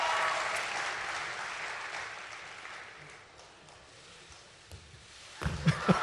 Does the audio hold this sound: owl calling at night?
no